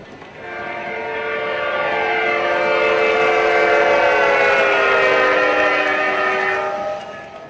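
A model train horn sounds as the train passes close by at about 60 scale miles per hour, its pitch sliding lower as it goes, rising and fading over about seven seconds.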